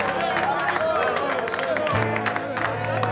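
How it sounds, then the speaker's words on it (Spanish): A dense burst of audience applause fills the stands at an athletics jumping event, steady clapping mixed with crowd noise that holds loud from start to finish, with a low drone entering partway through. "Fuerte el aplauso del público."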